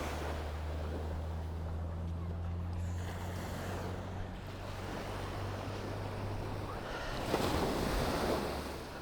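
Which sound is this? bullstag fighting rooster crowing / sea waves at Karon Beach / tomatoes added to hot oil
sea waves at Karon Beach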